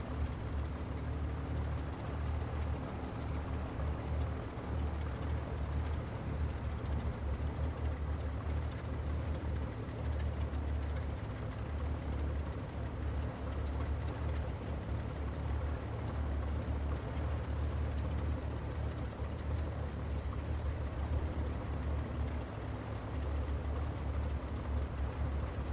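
Spitfire aircraft engine in a flight simulator game, running steadily at around 700 revs, a constant low, rumbling drone with no change in pitch that fills the whole stretch.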